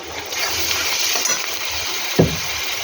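Garlic paste frying in hot oil with onions in a pan, a steady close sizzle throughout with a brief stir or clink near the end.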